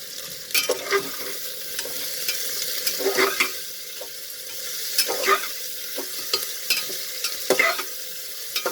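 Onions sautéing with dried red chili in a pan for a moong dal chicken dish, a steady sizzle broken by repeated scraping stir strokes at irregular intervals, close and moderately loud with no talking.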